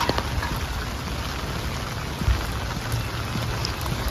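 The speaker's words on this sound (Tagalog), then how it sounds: "Sayang lang na umuulan." Steady rain pattering on surfaces nearby, a continuous hiss with scattered drops and one dull thump partway through.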